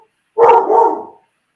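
A single excited dog barks once, loud and close, a short burst in an otherwise quiet indoor setting.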